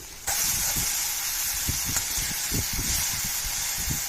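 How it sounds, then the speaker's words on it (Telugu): A ground spice mixture hits hot oil in a kadai with a sudden loud, steady sizzling hiss, and spoon scrapes and clatters come and go as it is stirred; nobody speaks. "మిక్చర్ని దీంట్లో వేస్తున్నాను దీన్ని కలుపుతూ ఫ్రై చేయాలి"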